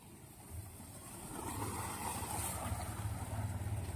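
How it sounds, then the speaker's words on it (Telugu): A boat on the Tungabhadra river moves past steadily, with a low engine throb under strong wind and water wash that swells after the first second and stays loud. "అదిగో అక్కడ కూడా పడవ వెళ్తుంది బ్రో"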